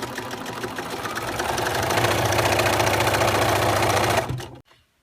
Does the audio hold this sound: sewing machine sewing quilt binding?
yes